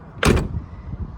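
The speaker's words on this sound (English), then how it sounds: "This driver door is also pretty solid" The driver door of a 1995 Chevy Suburban 2500 cowboy conversion opens, a door that tends to catch partway. A single sharp clunk is close and loud, followed by a quieter rumbling background.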